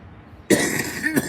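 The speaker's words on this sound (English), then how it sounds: "Oh, my cough is getting worse from this lung infection." A single harsh cough close up from someone with a lung infection, followed a moment later by a second, shorter cough.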